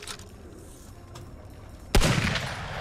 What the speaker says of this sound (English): This gun sounds like a gun from some other game, but I can't place it.